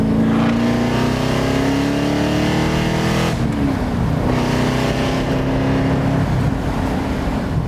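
A 1975 Alfa Romeo Montreal revs hard with a loud, close exhaust note, rising in pitch, briefly dropping as the gear changes, then climbing again in a second sustained pull.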